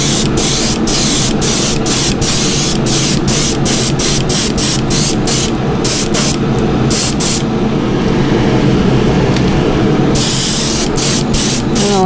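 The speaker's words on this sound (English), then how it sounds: "when I've been shooting pearls, at least this lime ice green, after a while, has a tendency to kind of gunk up this nozzle head and needle" A spray gun shoots lime ice green pearl paint with a loud, close, continuous hiss. Short pulsed bursts break it up, with one longer pause midway, and no one speaks.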